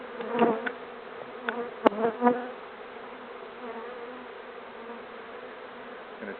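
Honeybees buzzing around an open hive during a spring inspection, a thin steady drone with several closer, louder passes of individual bees, plus a sharp click near the start.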